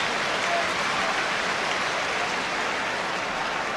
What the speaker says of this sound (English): The applause from the crowd was for Shilton's save.